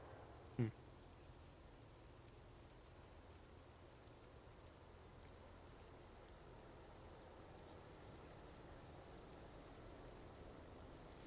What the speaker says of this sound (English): It's raining even under the roof.